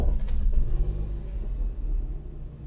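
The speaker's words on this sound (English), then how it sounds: "Right, I shall start the engine up." A Vauxhall Vectra B 2.2 LS engine starts up with a brief crank, then settles into a low, uneven idle rumble from a poorly fitted exhaust, close and steady with no talking.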